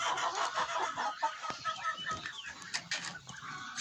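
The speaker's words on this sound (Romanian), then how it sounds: "Și cocoșul acesta care dacă mă enervează o să plece mai repede ca și celălalt, pentru că sare pe mine." Chickens and a rooster of mixed breed cluck and call close by in a farmyard, several short bursts in quick succession, with a faint flutter in between.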